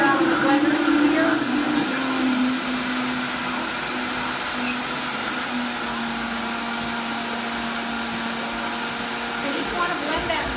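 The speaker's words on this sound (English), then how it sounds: "I just want to blend that until it kind of gets to be like a paste." A countertop blender whirring steadily as it purees a breakfast mix thinned with water into a paste, a loud continuous motor drone that shifts slightly in pitch early on and then holds.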